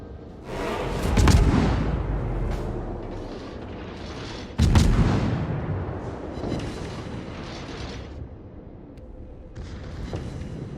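Destroyer guns fire in the naval game World of Warships from a tier 8 Kidd, a US premium destroyer: two heavy booming salvos a few seconds apart, each rumbling away, with smaller pops between and no talk.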